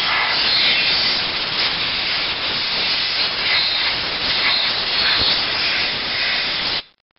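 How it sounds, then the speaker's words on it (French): A compressed-air blow gun blasts a cylinder head in a steady, loud, continuous hiss that holds for about seven seconds before cutting off sharply. "Un gros coup de soufflette, c'est ça. Attention au bruit,"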